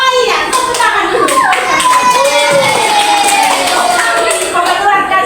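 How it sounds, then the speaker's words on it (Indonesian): Children in a seventh-grade science classroom clap their hands together in a lively burst of close, sharp claps, with children's voices mixed in. "Oh iya, tepuk tangan dulu."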